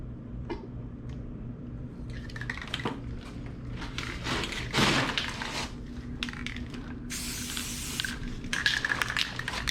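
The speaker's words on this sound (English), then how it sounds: "we still got a bunch of spray paint left" Spray paint hisses from an aerosol can onto a rusted trolling motor, in short repeated bursts and one longer spray, close and fairly quiet over faint background handling noises.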